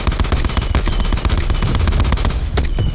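Rapid close gunfire in Call of Duty Blackout on the Alcatraz map rattles continuously as dense, loud automatic bursts with no pause across the moment.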